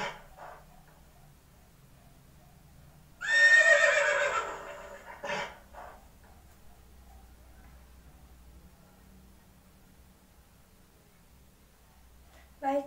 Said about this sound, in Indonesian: ternyata itu ya suara kuda